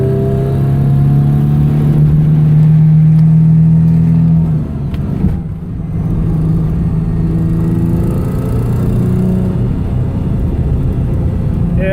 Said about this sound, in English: Not going to boost, but I'm gonna rev it out.